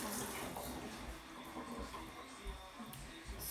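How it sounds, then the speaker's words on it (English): Running tap water splashes while someone washes hands at a sink, a faint, continuous hiss with small irregular splatters and clunks. "I'm gonna wash my hands real quick."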